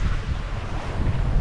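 Wind buffets a Dufour 375 GL sailboat under sail at sea in an 11–12 knot beam breeze, with steady broadband rushing and low microphone rumble, loud and continuous with no talking.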